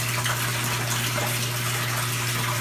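Water runs steadily from a hose or tap while topping off an outdoor aquaponics system, a constant close rushing hiss with a low steady hum beneath, with no talk.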